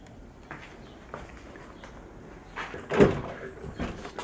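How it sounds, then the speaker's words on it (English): Someone tries the door of a jacked-up old Volvo 940, making scattered muffled clunks and rattles that build to a louder thump near the end, close by and with no talk. "This door doesn't open when it's jacked up."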